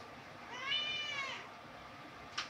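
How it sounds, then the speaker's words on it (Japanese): A single drawn-out cat meow rises and falls, clear and fairly close, in a quiet home kitchen during pasta cooking, followed by a brief sharp click near the end. "そら猫も鳴くわ。"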